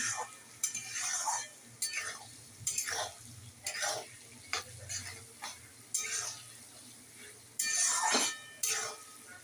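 Vegetables for fried rice stir-fried together in a pan, a steady sizzle broken by repeated scraping strokes of a spatula roughly every second, close and clear with no talk.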